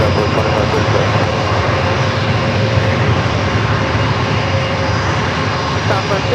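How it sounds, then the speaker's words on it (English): An Alaska Airlines Boeing 737 MAX 9 arriving from DFW at San Diego airport roars loudly and steadily, a broad, dense jet engine noise that stays constant and close throughout. "Our next arrival, Alaska Flight 1460 coming in from DFW in a MAX 9"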